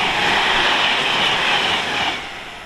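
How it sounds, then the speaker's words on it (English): An Avanti West Coast Class 390 train passes through Tamworth station on the West Coast Main Line with a loud, steady rushing roar that stays close and then fades slightly near the end. "And there you see an Avanti West Coast class 390."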